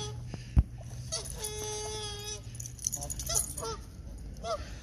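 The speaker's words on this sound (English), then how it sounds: "Oh, the geese are not happy with her at all." Several geese honk and squawk excitedly nearby, with a sharp thump early on and agitated calls continuing throughout over outdoor noise.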